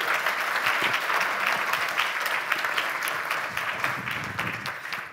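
Steady applause from an audience at an evening talk, a continuous wash of many hands clapping at moderate distance, slightly faint and unbroken throughout.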